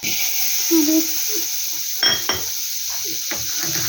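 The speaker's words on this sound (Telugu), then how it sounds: "కడాయి పెట్టుకొని బటర్ వేసుకున్నాం" Butter sizzling in a kadai for paneer butter masala: a steady hissing sizzle runs throughout, broken by a few clinks of a pot or spoon and light stirring scrapes, close and fairly loud.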